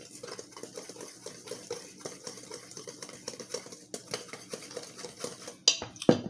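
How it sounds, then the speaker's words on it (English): A whisk mixing two tablespoons of all-purpose flour and salt in a bowl: quick, rhythmic metallic clicking and tapping against the bowl, close and steady, with a few sharper knocks at the end. "you take your whisk and you combine that"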